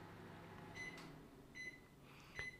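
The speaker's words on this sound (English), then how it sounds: "Oh, I do hear my microwave." A microwave oven runs quietly at a distance as a low steady hum, with a few short high tones rising over it.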